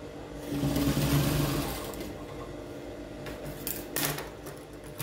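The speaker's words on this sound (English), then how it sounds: "Let's just sew down the dovetail to hold this together." A sewing machine runs up close as it stitches down the dovetail of a double welt pocket, with a fast, steady whirring hum that eases off, then a few light clicks from handling.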